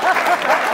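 Studio audience applause on a Georgian late-night show, a short, loud, steady patter of clapping heard up close.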